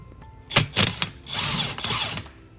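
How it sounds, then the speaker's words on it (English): An impact gun fitted with a 13/16 socket backs out a brake caliper bolt on a 1971 C3 Corvette, giving several short close rattling bursts and then a longer whirring run, loud and with no talking. "I got a 13/16 socket on my impact gun"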